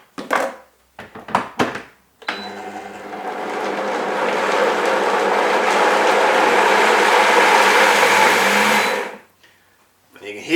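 A blender churns peanuts into peanut butter, starting with a few short stuttering pulses and then running continuously for about seven seconds in a loud, rough whir as air catches around the blades, before stopping abruptly.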